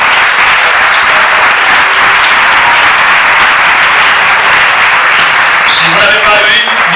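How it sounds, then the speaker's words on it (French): A church congregation claps loudly and continuously, a thick wash of applause that holds steady from start to finish with faint voices underneath. "Acclamons aussi ceux qui n'ont pas eu"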